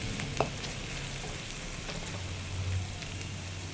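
Onions with salt fry in a pan for a village-style egg bhurji with drumstick leaves, making a soft continuous sizzle with one brief stirring clink near the start and no talking.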